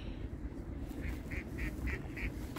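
Ducks in Manila, a run of five evenly spaced quacks close by over low rumbling outdoor noise.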